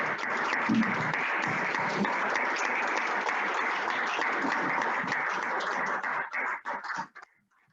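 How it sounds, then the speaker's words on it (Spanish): Church congregation applauding loudly at a worship service, a thick, continuous wash of many clapping hands that holds steady, then thins into scattered final claps and stops. "Den un aplauso al Señor."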